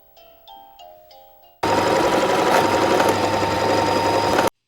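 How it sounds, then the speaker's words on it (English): A sewing machine runs loudly and steadily for about three seconds, starting abruptly after a few soft tones and stopping sharply. "Let's get out the sewing machine."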